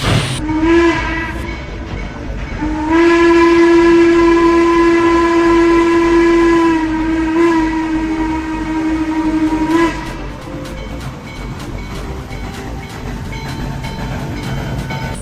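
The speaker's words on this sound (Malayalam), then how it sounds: "ആറ് സ്റ്റാഫുമായി ആ ട്രെയിൻ അതിൻ്റെ ആദ്യ യാത്രയ്ക്ക് തുടക്കം കുറിച്ചു ട്രെയിൻ യാത്ര തുടങ്ങി" A loud, sustained train horn blares twice, near and steady, followed by the rumble and rattling clatter of the train moving along the tracks.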